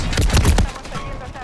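Gunfire in Call of Duty Modern Warfare III on the Rust map in Domination mode, a close, loud burst of rapid automatic shots lasting about half a second, then quieter background game noise.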